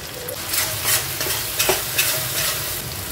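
Garlic, ginger and chili paste frying in a pan after onion and tomato, a constant close sizzle with intermittent scraping stirs and small pops.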